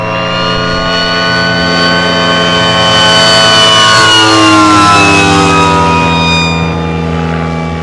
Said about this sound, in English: a diving Stuka with siren